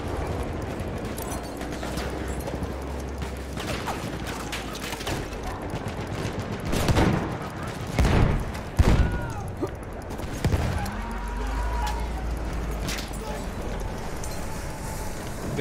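Battlefield 1 fighting on the Amiens map, rapid gunfire and heavy blasts cracking over a constant battlefield rumble, with a loud cluster of shots near the middle.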